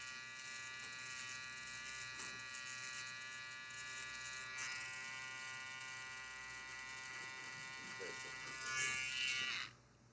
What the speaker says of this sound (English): You need a pretty sharp trimmer to do something like that.